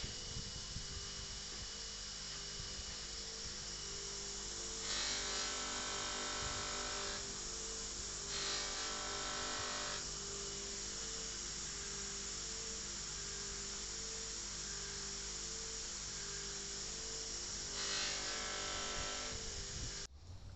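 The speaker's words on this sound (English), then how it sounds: "now we're using a super fine white compound to finish up" A buffing wheel polishing brass with fine white compound gives a steady, high motor whine throughout, with brief rougher swells where the piece presses harder against the spinning wheel.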